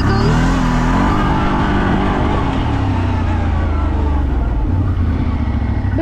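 A CF Moto 1000 engine accelerates hard, a loud, close, continuous roar with rising pitch that then settles into a sustained drone, filling the whole stretch with no talking.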